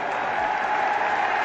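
A large football crowd of nearly 40,000 applauds as the teams walk out onto the pitch together, a dense, continuous roar of clapping heard from a distance with no break.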